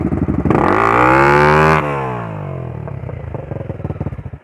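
A trail dirt bike, reportedly with a failed connecting rod, revs hard for over a second, its engine climbing steeply in pitch, then drops to a rough, clattering idle, close and loud with no talking.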